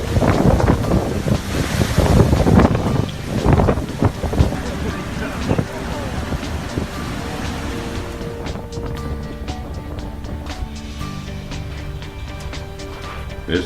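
Strong Hurricane Harvey wind roaring loudly and steadily outdoors, gusting harder early on and battering the microphone, with rumbling water and scattered rattling debris throughout.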